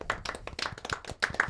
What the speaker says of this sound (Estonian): Teeme aplausi Marile!